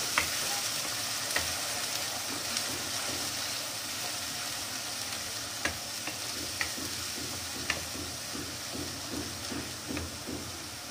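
Onion paste sautés and sizzles steadily in a pan for a chicken masala, with a continuous frying hiss broken by soft, regular scraping strokes of a spoon and a few sharp clicks.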